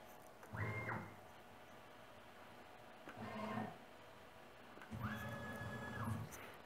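A PM-25MV milling machine converted to CNC with a Centroid Acorn controller has its axis jogged in a shop: three separate bursts of motor whine, each a second or so long, rise and settle, with quiet pauses between and no talk.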